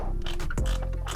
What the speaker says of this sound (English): That's the sound of my skin getting scraped off by the fan shroud.